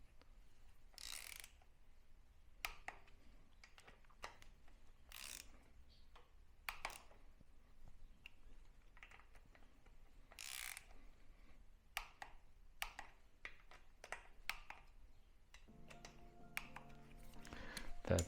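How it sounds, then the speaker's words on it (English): A hand ratchet backs off bolts on the air cleaner of a Harley-Davidson Iron 883 Sportster, producing faint, scattered clicking and tapping in short runs against a quiet background. "Might have tightened them a little bit too tight with the ratchets."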